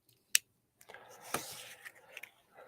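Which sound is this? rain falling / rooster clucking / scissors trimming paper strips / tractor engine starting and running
scissors trimming paper strips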